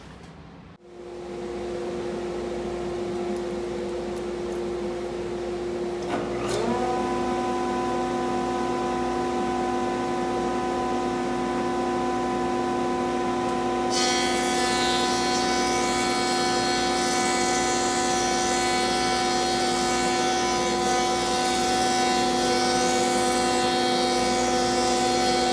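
A woodworking thickness planer and a dust-collection vacuum run steadily with a loud, continuous motor whine and steady tonal hum. The pitch shifts as the machine takes load, then a harsh broadband roar joins midway as the board feeds through.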